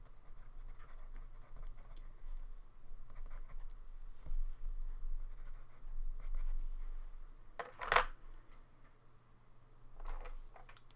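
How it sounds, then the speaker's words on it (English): A pencil rubbing and smudging pastel colours together on paper, soft close scratching strokes with a sharper scrape near the end, quiet against a low background hum. "And we can blend colours together like that with the pencil,"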